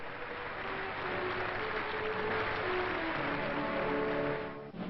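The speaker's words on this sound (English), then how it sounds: "The Assembly applauded." A legislative assembly in France applauds, a sustained dense wash of clapping from a large chamber that holds steady for several seconds before fading at the end.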